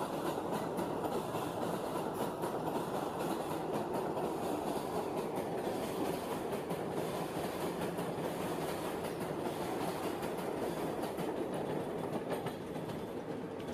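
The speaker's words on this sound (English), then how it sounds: "It's a subway." A subway train running steadily, a continuous loud roar of wheels on track with faint rhythmic clatter, no voices, sustained for the whole stretch.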